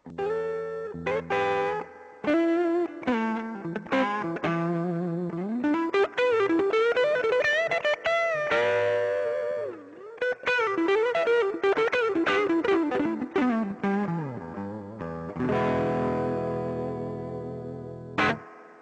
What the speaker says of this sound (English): Love the sound of that spring reverb.